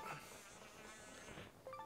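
Bees in the Zelda Skyward Sword video game give off a steady, close insect buzz that holds for a couple of seconds with no talk over it.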